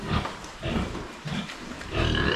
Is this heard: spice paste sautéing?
no